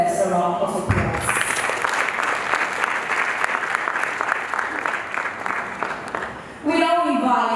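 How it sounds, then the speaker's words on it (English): A symposium audience at the Ghana College of Physicians and Surgeons gives a loud, sustained round of applause, dense and steady throughout, with a speaking voice just before it starts and again as it ends. "I think it deserves a round of applause"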